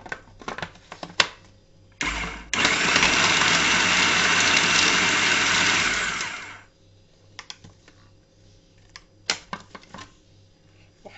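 A kitchen blender whirs loudly for about four seconds while mixing spiced ingredients for a meatless bofftek, starting abruptly and winding down. Clicks and light handling noises come before and after.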